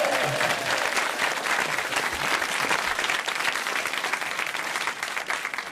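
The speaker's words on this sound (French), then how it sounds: "je vous demande d'applaudir, Pierre Bénichou." Crowd applause at a comedy film festival in Alpe d'Huez, a dense, continuous wash of clapping that stays loud and steady, with faint voices mixed in.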